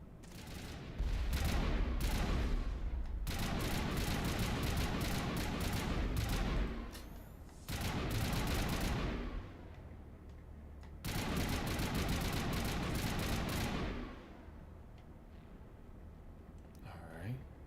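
Sustained automatic gunfire in Mass Effect: Legendary Edition, with long stretches of rapid, dense shooting that stop and start abruptly across the clip, plus a heavy low-end impact from a rocket hit.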